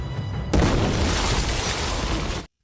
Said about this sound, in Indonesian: rumah itu pun meledak